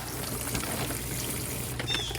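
Water is poured into trays of dry potting soil mix for starting garden seedlings, a soft continuous trickle and wash heard close, with a brief high bird-like chirp near the end and no talking.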